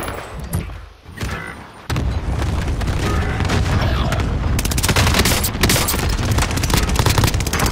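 Dense bursts of automatic gunfire and booming shots in a shooter video game, loud and continuous after a sparser opening, with no talk over it.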